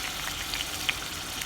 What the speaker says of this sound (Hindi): आप देख सकते हैं मैं एक एक करके उठा के बोटियाँ डाल रही हूँ